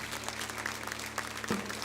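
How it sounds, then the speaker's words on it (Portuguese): A church congregation applauding during a worship service, a steady wash of many hands clapping at a moderate distance over a low hum. "aplaudir o Senhor com alegria"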